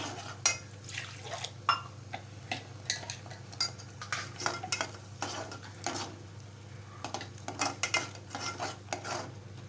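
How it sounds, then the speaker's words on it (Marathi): Spoon stirring a Malvani-style mutton curry mixture with kokum in a pot, irregular scraping and clinking strokes over a low steady hum, close and quiet. "आता मिश्रण एकजीव करून घेऊया"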